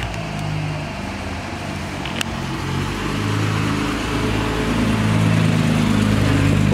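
A Jaguar E-Type's engine runs at a Ferrari gathering in Knokke, a steady mid-pitched hum that slowly swells in loudness over several seconds, with a faint click early on.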